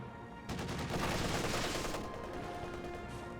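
DShK heavy machine gun fire in the Company of Heroes 2 video game, a rapid burst of loud rattling shots lasting about a second and a half, then fading into background battle noise.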